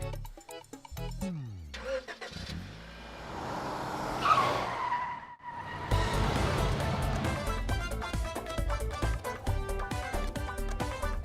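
A car driven fast in a comedy TV scene skids, with engine revving and tires screeching. Sharp sliding sounds come first, then a brief lull, then a loud, sustained rush of engine and tire noise.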